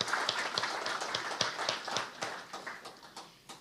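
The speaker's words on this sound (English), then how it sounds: "So round of applause for them." Audience applause at a 2025 State of the City breakfast gathering: a steady run of crisp claps with a few sharper individual hits standing out, moderately loud and fading slightly toward the end, with no talk over it.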